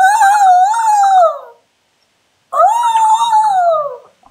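A person imitates a horse with the voice: two drawn-out, wavering whinny-like calls, each about one and a half seconds long and separated by a short silence, loud and close.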